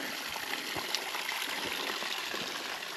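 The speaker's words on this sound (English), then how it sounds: "there's a really nice stream of water coming off from the mountain." A mountain stream runs steadily along a muddy trail, a continuous close rush of flowing water with small gurgles and splashes throughout and no voices.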